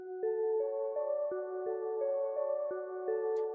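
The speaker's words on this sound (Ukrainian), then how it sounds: "І інші ось такі дзвоники" Bell-like Omnisphere synth tones for a synthwave track chime in a steady pattern of sustained, ringing chord notes, each change marked by a soft attack, quiet and clean with no talking.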